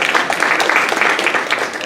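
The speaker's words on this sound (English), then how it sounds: "Give Chris a round of applause." Audience applause at a panel discussion on the drug war and surveillance, a dense, steady patter of many hands clapping for the whole stretch, fairly close and loud, with faint voices mixed in.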